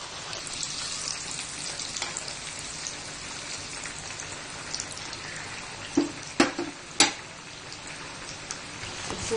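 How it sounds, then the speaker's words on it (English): Yam tikki frying over a medium flame give off a steady, rain-like sizzle, close and even, broken near the end by a few sharp clunks of a utensil. "So fry this on a medium flame."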